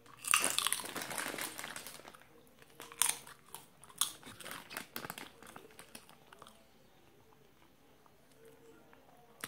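Crisp, dry crunching of Kionda popcorn being bitten and chewed up close, with loud bursts early that fade into softer chewing, no speech.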